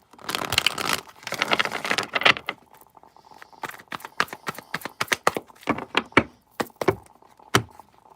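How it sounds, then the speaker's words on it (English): Tarot cards are shuffled close up. A couple of dense riffling bursts open the sequence, followed by a run of crisp, irregular taps and slaps as the deck is handled and squared. "Last shuffle."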